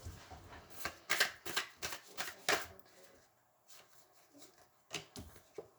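Tarot cards are shuffled by hand in a quick series of crisp riffling bursts that fade into softer, scattered card taps.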